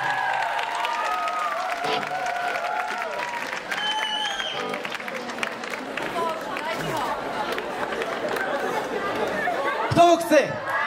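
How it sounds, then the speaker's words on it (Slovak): An audience at an outdoor concert in Námestovo claps steadily in a continuous wash of applause, with chatter and a few raised voices mixed in and a brief louder burst near the end. "Zatleskajte si."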